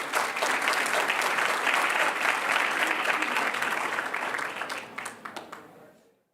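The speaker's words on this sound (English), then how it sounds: "Please join me in congratulating Yvonne Guerrero with a round of applause." An audience at a school district board meeting claps steadily in a dense round of applause that holds strong for about five seconds, then thins into scattered claps and stops.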